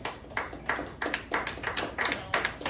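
Studio game show audience in Jersey City clapping in bursts roughly every third of a second to half second, a steady run of group applause with no talking.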